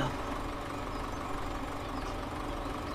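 Steady tractor engine idling in a farming video game on a French countryside map, a continuous low rumble with mid-range drone, constant and fairly loud throughout with no pauses.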